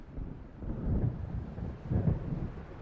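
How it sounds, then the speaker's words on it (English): Low rumbling thunder of an approaching storm in the Alan Wake video game, two soft rolling swells over faint wind. "It seems there's a storm coming."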